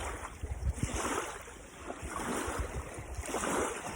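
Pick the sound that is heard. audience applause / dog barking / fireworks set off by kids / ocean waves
ocean waves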